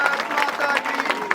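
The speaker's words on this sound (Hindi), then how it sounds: "अब इस बात पे इनके लिए ताली हो जाए।" Applause from a crowd at a village gathering in Lamba, Tonk, brief and fairly loud with a dense patter of claps, voices mixed in through the burst.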